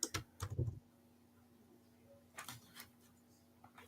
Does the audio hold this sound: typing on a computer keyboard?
yes